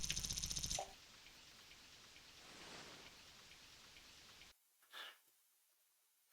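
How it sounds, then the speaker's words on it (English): Steady rain hiss from the SNES fishing game TNN Bass Tournament of Champions, a soft even wash that runs under a brief louder game sound at the start, then drops away, leaving a faint blip and near silence. "It's got like the rain sounds."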